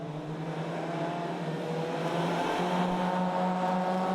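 Rallycross cars racing at Lydden Hill during a British Rallycross Championship round, engines droning steadily and loud throughout with a sustained mid-pitched tone, a nearby car braking hard and locking up amid the continuous roar.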